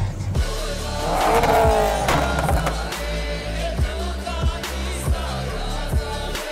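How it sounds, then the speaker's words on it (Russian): A VW Golf 1.4 Turbo fitted with a loud aftermarket exhaust rumbles close by, a deep low drone that swells as the engine is revved and then settles into a steady idle. "ни одно из слов не описывает звук этого выхлопа."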